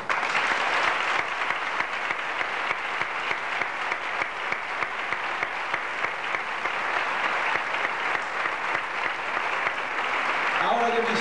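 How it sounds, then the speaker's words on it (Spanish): A crowd gives sustained, vigorous applause at a ceremony marking a religious brotherhood's 25th anniversary, a steady roar of clapping throughout, with a voice beginning to speak right at the end. "Yo le pido otro gran aplauso, como le hemos dado antes, pero más fuerte"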